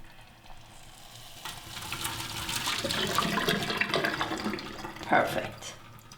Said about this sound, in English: So we have to drain the water.